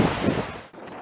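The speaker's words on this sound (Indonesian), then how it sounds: "Kondisi angin kencang disertai gelombang tinggi" Strong wind buffeting the microphone over a rough sea with high waves, a loud roaring gust that fades briefly near the end.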